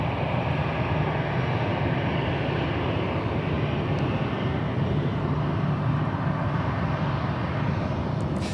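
An American Airlines Airbus A319, about 25 years old, at Charlotte airport gives a steady, broad jet roar that holds at an even, fairly loud level throughout, with no voices.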